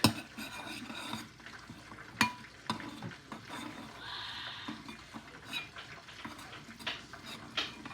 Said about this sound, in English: Let me go get mix it with your spoon.